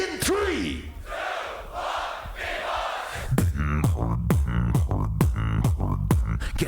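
Crowd at the Grand Beatbox Battle roaring and shouting in a large hall, a dense wash of cheering that swells, then gives way to sharp rhythmic bursts as the noise becomes punchy and loud.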